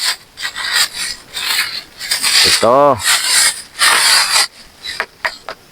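A cacao pod is rubbed and tapped by hand to check ripeness: close, loud rasping scrapes in bursts, a brief squeaky tonal rub in the middle and light taps near the end, with a short spoken word.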